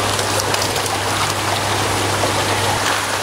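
Water pours in through a fish pond inlet at a tilapia farm, a loud, steady rushing splash that stays constant and close throughout.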